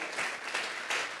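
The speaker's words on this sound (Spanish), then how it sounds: "Vamos a regalarle ofrenda de palmas al Dios de la gloria." Congregation clapping together during a church service, steady dense applause filling the space for a moment, moderately loud with no talk over it.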